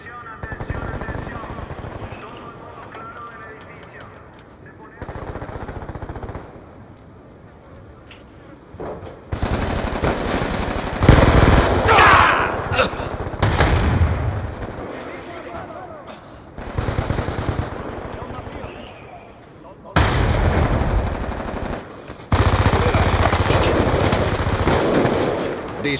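Bursts of rapid automatic gunfire and single shots in a Call of Duty match come in loud clusters separated by quieter stretches, with voices talking underneath.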